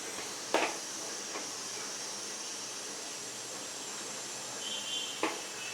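A coconut and tamarind kootanchoru gravy simmers in a pot with a faint continuous hiss and bubbling, broken by a couple of brief sharp pops.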